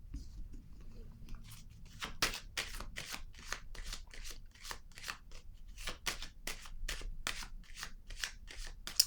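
Tarot cards being drawn and handled, a quick run of crisp rhythmic flicks and snaps, fairly faint and close, repeating steadily for several seconds.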